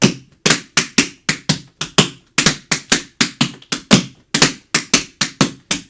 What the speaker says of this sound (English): You can hear it kind of get stilted and jilted when I'm going from the hop and the shuffle.